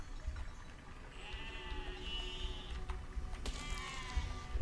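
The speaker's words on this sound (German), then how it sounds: "Das Schaf, ey." Sheep bleats from the medieval physics-building game Besiege, a couple of wavering bleats over a steady low background rumble and faint clicking, fairly quiet, no talk.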